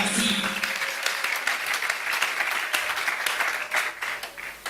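A church congregation applauding together, with sustained dense clapping and some voices mixed in throughout.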